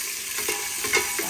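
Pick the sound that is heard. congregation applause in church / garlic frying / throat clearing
garlic frying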